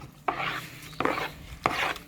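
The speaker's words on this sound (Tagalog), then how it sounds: "Tapos, halu-haluin muna natin." A spoon mixes sugar with crushed pineapple for carrot cake batter, three distinct scraping strokes about a second apart, close and moderately loud with no talking.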